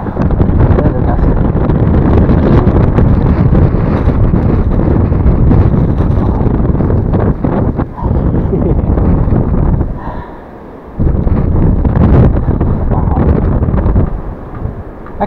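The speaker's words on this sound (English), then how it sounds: "with this strong winds, it's making it hard. Like, wow, that is gusty." A strong, gusty blizzard wind roars and buffets the microphone up close, loud and continuous, with one brief lull partway through before the blasts return.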